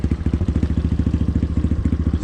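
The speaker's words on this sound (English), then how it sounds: "so she's idling now, where she was just burping out" A 1986 Yamaha Moto4 YFM200DX ATV engine idles after a carb cleaning and fuel-air mixture adjustment, with a steady, fast, close putter of even low thumps and no talking.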